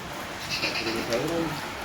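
A goat bleats a few times amid the crowded chatter of a livestock market, with voices talking over and around the calls.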